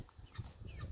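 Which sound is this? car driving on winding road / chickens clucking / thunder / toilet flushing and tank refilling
chickens clucking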